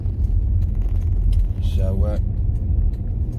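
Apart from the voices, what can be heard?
Jaguar XJ8 X350 V8 accelerating onto the motorway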